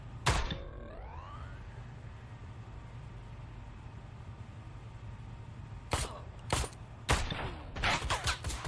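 Pistol shots in the video game Ride to Hell: Retribution: one sharp loud report near the start, then several more quick shots later in a scattered cluster over steady game background noise.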